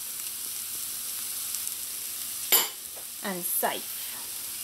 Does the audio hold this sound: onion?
yes